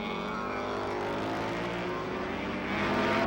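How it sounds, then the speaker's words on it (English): An FWS Honda racing superbike at Laguna Seca passes with a harmonic, rising engine note, steady and fairly loud, swelling slightly louder toward the end with no talk over it. "Listen to the sound of that FWS Honda."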